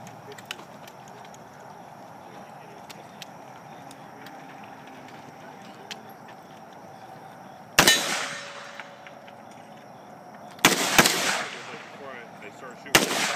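AR-15 rifle fired from a car: three sharp, loud shots spaced a few seconds apart, each ringing out briefly after a stretch of quiet background noise.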